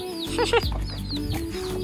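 Chickens and chicks cluck and peep close by in a home courtyard, with a steady run of soft clucking and higher chirps overlapping for a couple of seconds.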